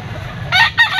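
A young gamefowl rooster (stag) crows at a pet market, one short nearby crow rising over a low crowd murmur.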